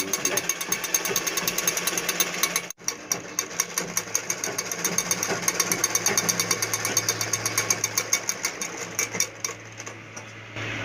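A sewing machine stitches lehenga fabric along a marked line, running as a fast, steady mechanical rattle with a brief stop early on, loud and close.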